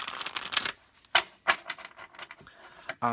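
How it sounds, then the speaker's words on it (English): A deck of cards is side-shuffled in quick bursts that riffle and snap, a dense flurry at first followed by sharper separate clicks and flicks, close and fairly soft. "I require this unusual technique of side shuffling because I have small hands."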